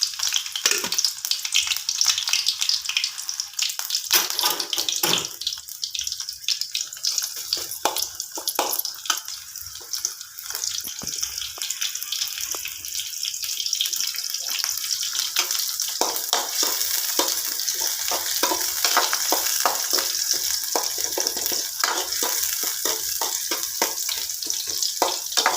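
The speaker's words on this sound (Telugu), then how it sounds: "ముందైతే ఉల్లిపాయలు అయితే వేసుకుంటున్నాను" Onions sizzle loudly in hot oil for a Telugu tempering, a close, continuous crackling hiss with occasional stirring clatter and no talking.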